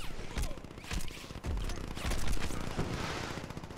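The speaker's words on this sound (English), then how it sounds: "they're shooting at me" Enemy gunfire rakes at the player in the open-world game Crackdown, a dense run of rapid overlapping shots and bursts that stays loud and continuous for several seconds.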